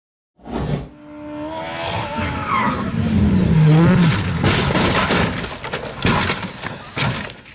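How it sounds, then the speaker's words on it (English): A black and yellow off-road buggy speeds through a flooded stretch of sand-dune road, its engine roaring loud and close with rushing spray, tire squeal and skidding rising to a peak before bumping clatter. "The black and yellow buggy sped through a flooded stretch of road on the sand dunes, creating a spray of water."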